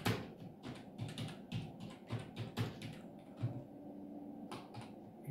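Computer keyboard keys clatter steadily as HTML tags are typed out, irregular clusters of close taps with brief pauses between bursts, no talking.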